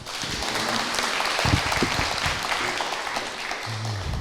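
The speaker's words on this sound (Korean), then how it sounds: "큰 박수 부탁드립니다." Audience applause at an international forum on Northeast Asian peace, a dense, sustained wash of clapping throughout, steady and fairly loud.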